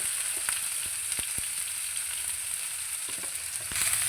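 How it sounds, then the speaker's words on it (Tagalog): Cabbage frying in a pan with tomato and other vegetables, a steady close hiss of sizzling oil broken by a few sharp clicks and scrapes, with no talking. "Lagay na natin ang ating repolyo."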